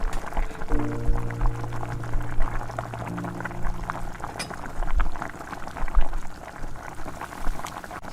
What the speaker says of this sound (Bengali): মাথাগুলো সবজিটার সাথে মেশানোর পর সামান্য একটু জল দিয়ে দিচ্ছি